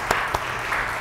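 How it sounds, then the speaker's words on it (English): Brief applause from a lecture audience at a Societas Koreana meeting on climate change, a short burst of clapping lasting about a second with a couple of sharper claps standing out. "please give her another big round of applause"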